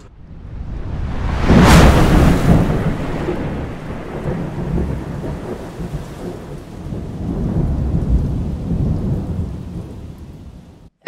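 A mountain thunderstorm in Colorado's San Juan range, a loud close thunderclap followed by a long rolling rumble over steady pouring rain, with a brief voice at the very end.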